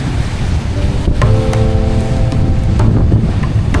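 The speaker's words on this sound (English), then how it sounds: "look at the waves, the winds!" Gusting wind roars across the microphone beside the choppy Danube river between Hungary and Slovakia, a dense, loud, steady rush with waves washing underneath and no talk.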